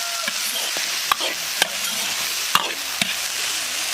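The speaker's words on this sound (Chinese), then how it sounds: "先炒豆芽、木耳" Bean sprouts and wood ear mushrooms stir-fried in a wok of hot oil with scallion, ginger and garlic: a steady close sizzle broken by several sharp spatula scrapes and clinks, with no talking.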